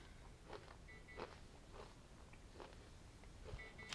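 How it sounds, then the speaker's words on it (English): Close-miked chewing sounds soft and faint, with regular crunchy bites about every half second and no talking. "Am I chewing too loud?"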